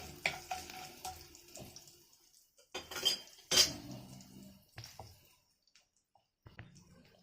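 Mustard seeds and asafoetida fried in a pan for mixed-lentil dal, heard as sharp clinks and scrapes of a utensil against metal with a faint sizzle between them and quiet gaps.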